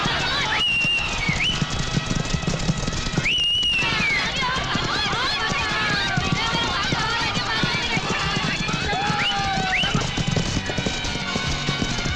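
Racehorses gallop in a jackpot race with a continuous drumming of hooves and occasional whinnies, while excited voices and shouting run over them throughout.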